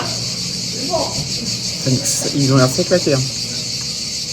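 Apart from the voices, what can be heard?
cicadas chirping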